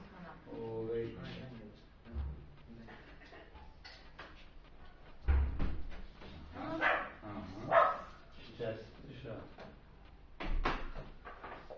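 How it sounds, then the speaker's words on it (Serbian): A dog barks in several short, sharp bursts spread across the scene, close and fairly loud, interleaved with people talking. "Ovo je krenuo da laje."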